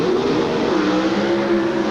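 NHRA drag race cars launching off the starting line at the 1988 California Nationals, loud sustained engine roar with rising revving tones across the whole stretch, no talk over it.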